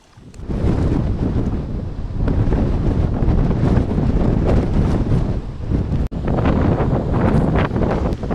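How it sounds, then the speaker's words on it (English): Strong wind buffets the microphone on an exposed Anglesey shore while waves crash in with foaming surf, a loud, continuous roar that barely lets up throughout. "Look at the waves coming crashing in here, and the foam everywhere."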